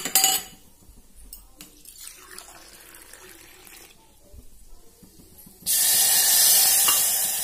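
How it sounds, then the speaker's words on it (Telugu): Water added to a pan of fried vermicelli (semiya) while making a sweet kheer with khaddu, a steady loud rush of pouring and sizzling coming in near the end after quieter kitchen clatter. "ఇప్పుడైతే వాటర్ అయితే యాడ్ చేసుకుందాము."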